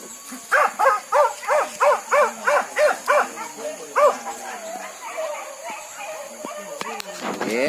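On a wild boar hunt at Tanjung Barulak, a hunting dog barks in a steady, rhythmic run of about eight loud, close barks, then trails off into scattered yips with voices nearby.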